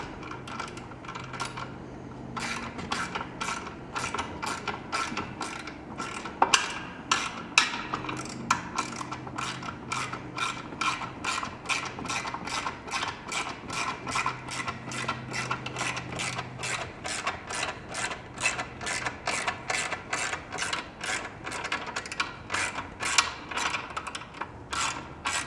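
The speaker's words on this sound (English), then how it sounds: "we want to get this bolt just snug" A bolt on a Wanderfin boat fin mount is snugged with a ratchet, giving a long, steady run of close, crisp, evenly spaced clicks with no talk.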